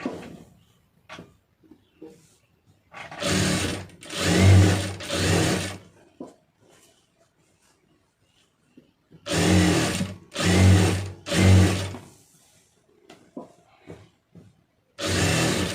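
A sewing machine stitching a blouse runs in short bursts, two quick runs then three, each a close, steady mechanical whir separated by quiet pauses with small handling clicks.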